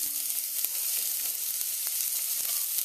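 Diced onions sizzling in olive oil in a heavy pan, a steady close crackling hiss with small pops scattered throughout.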